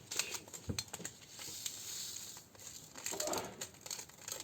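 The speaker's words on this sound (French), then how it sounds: "Déjà pour le bruit des sachets." Plastic bags from a Diamond Painting craft kit from Action, 30x40 size, crinkle and rustle up close, in a quiet run of soft crackles with a few sharper snaps, no one speaking.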